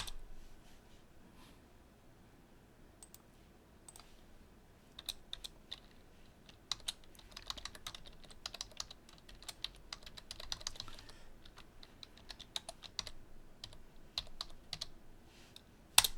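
Typing on a computer keyboard during Laravel coding, a continuous run of quick, light clicks at close range, sparse at first and then denser with brief pauses, with no voices.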